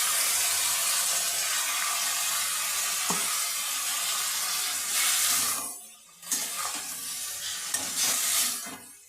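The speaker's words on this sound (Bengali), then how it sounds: "আমি 2 মিনিট ভালো করে কষিয়ে নেব।" A paste of mustard, poppy seed, cumin, garlic and chilli fries loudly in a pan, a dense continuous hiss with stirring. Around the middle it briefly drops away, then the sizzle resumes.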